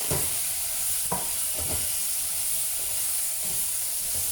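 Brinjal stir-fried in sambal sauce in a hot pan gives a steady, loud sizzling hiss with a few soft scraping stirs breaking through.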